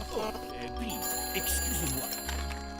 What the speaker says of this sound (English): I was wondering if someone could answer the phone.